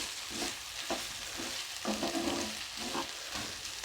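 A potato and carrot curry with red chilli powder cooks in a pan. A soft, continuous sizzle plays under repeated gentle stirring and scraping.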